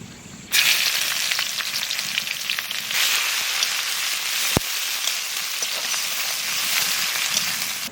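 Whole cloves, cinnamon, cardamom and sliced onion drop into hot oil, giving a sudden loud burst of sizzling that settles into a steady, close crackling hiss, with one sharp click partway through.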